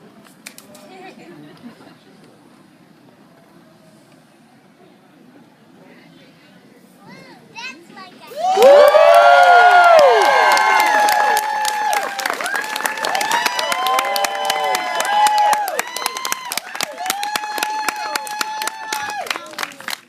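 A street show crowd bursts into loud cheering, whooping and high-pitched screaming after a quieter murmur, the shouting staying dense and excited for over ten seconds.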